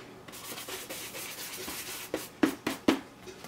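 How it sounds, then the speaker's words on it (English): Sandpaper rubs over a Star Wars Sandtrooper helmet being weathered, a soft steady scuffing that builds into three or four sharper, louder scrapes near the end, with no talking. "you can always hit it with the sandpaper, kind of rough it up a little bit"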